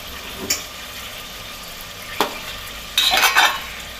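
Mutton with green chillies stir-fried for mutton do pyaza, a low steady sizzle broken by a few utensil scrapes and clinks against the pan, close, with no talk.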